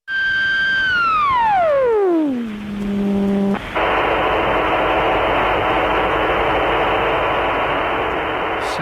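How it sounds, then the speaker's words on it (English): A Russian radio jamming transmitter sweeps a descending whistle down onto a frequency over a few seconds, then a loud, steady hiss of broadband jamming noise bursts in and holds without letup. "you could hear the jamming transmitter zero in to your frequency. So you would hear a sort of a whistle"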